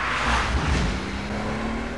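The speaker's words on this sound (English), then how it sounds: "They test drive every new 911" A Porsche 911 Carrera cruises at speed on the Autobahn, a steady broadband rush of engine, tyre and wind noise with a low engine drone, close and continuous with no voices.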